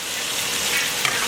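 Pasta boiling in a pot of water, part of a shrimp pasta dish, giving a steady, close bubbling and sizzling wash with a couple of small pops near the end and no talk.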